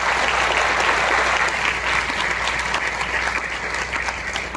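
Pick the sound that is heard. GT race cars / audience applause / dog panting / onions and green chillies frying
audience applause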